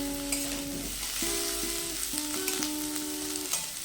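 Chopped vegetables and green chillies sizzling in a hot pan for dry chilli chicken, a steady loud frying hiss with scraping stirring sounds and occasional clinks throughout.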